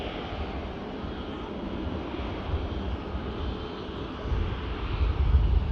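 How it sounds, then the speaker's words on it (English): A Singapore Airlines Airbus A350 taking off from runway 05 left at Manchester Airport: a broad, distant jet roar with wind noise that swells louder toward the end. "we'll see the Singapore Airlines Airbus A350 taking off on"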